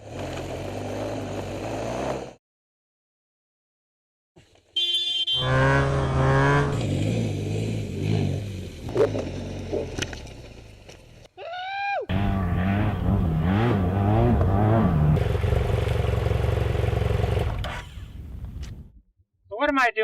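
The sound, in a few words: dual sport motorcycle riding through the desert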